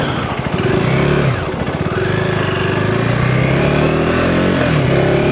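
A 2025 KTM 390 Enduro R single-cylinder motorcycle ridden off-road, its engine droning loud and close with rising and falling throttle, a steady rough buzz without speech.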